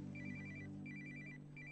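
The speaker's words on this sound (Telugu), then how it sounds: "Father, phone ring." A telephone rings quietly in the background, giving three short repeated electronic trilling bursts over a low steady hum, with no speech.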